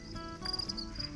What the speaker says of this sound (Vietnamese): Ôi cái tiếng dế nghe kêu vui tai phết.